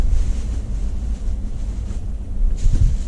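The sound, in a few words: wind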